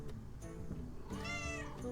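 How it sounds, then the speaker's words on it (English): A house cat meows at close range, with a short call followed by a longer, drawn-out rising meow, heard alone with faint room noise and no speech. "This cat is actually, like, wrapped around my arm right now"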